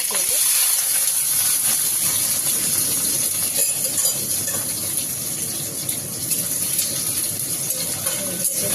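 Ingredients are stirred around in hot oil in a pan. A loud, continuous hiss and sizzle fills the sound, with occasional faint scraping from the stirring.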